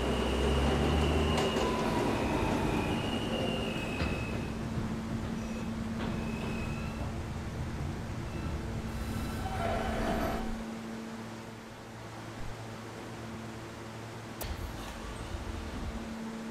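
An R160A subway train on the F line in Roblox rumbles along with a steady, loud rolling drone, a low hum running underneath, then eases and quiets toward the end as brief higher squeals and clicks come through.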